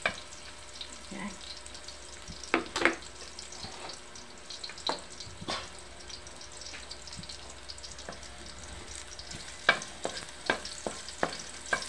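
Ladle scraping and knocking against a pan while squash and bitter melon with shrimp are stir-fried, giving quiet sizzling under scattered metallic clinks and scrapes.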